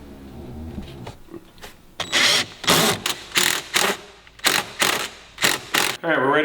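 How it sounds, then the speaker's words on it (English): Clamps on an AFE Magnum Force Stage 2 cold air intake being tightened, likely with a ratchet: a run of loud, close clicking bursts in quick rhythmic strokes, preceded by a short moment of quieter handling. "you can go ahead and start tightening up these clamps."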